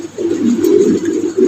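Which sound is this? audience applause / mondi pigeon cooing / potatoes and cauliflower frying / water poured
mondi pigeon cooing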